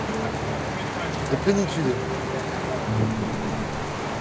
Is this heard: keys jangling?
no